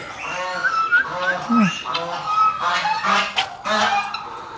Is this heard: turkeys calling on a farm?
yes